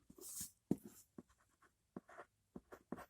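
A pencil drawing on paper being erased in short rubbing strokes, a series of close, soft scratchy bursts separated by brief silences, with no talking.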